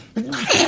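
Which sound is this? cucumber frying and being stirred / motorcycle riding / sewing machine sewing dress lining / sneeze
sneeze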